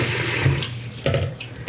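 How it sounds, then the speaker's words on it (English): Brown rice being rinsed under running tap water in a kitchen sink for a final rinse, a steady close rush of flowing water with a few sloshing surges as the grains are swirled. "Now this is the final rinse, and see how clear the water is."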